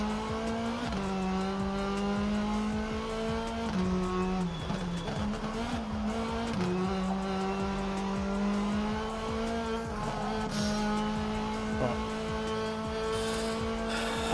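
Race car engine in the sim racing game Rennsport, revving hard and steadily with rising and falling pitch through gear changes, joined by brief tire squeal and skidding, loud and continuous with no talking.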